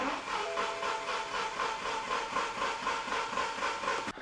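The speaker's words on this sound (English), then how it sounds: "the engine was turning over, but it did sound kind of weird" A BMW 1 Series diesel engine cranks over with a rhythmic, labored churning, a steady pulsing cycle with a faint whine, close and moderately loud before cutting off abruptly.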